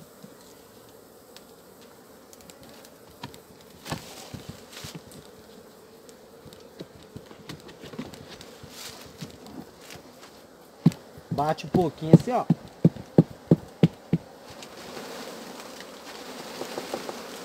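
Apis honey bees buzz steadily around a hive super lifted off the colony, a dense droning hum throughout, with a series of sharp knocks as the super is tapped and someone talking briefly over it.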